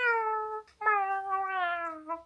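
A cat gives two drawn-out, close meows, the second longer with a rising then falling tone, clear and alone against a quiet background.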